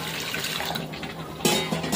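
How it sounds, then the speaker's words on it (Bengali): Hot boiled water poured into a cooking pot in a home kitchen, a steady splashing pour that swells louder near the end, with no voices over it. "এখন দিয়ে দেবো আর একটু গরম জল,"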